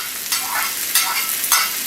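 Garlic and vegetables stir-frying in a wok for Chinese lo mein, with a steady bright sizzle and three louder surges as the food is pushed and tossed, close and alone without voices.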